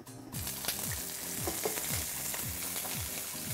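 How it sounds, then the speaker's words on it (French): Veal saltimbocca frying in olive oil in a sauté pan, giving a steady close sizzle with scattered crackles and pops throughout. "On va cuire les saltimbocca. Donc dans un sautoir ou une poêle, on va rajouter"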